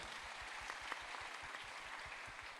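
Audience applause at a crypto regulation event, a very quiet, distant patter of clapping that carries on steadily with a low rhythmic thumping underneath.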